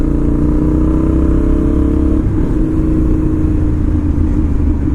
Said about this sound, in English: I try to keep the RPMs low so that the exhaust doesn't drown out my voice, but it was just droning up that hill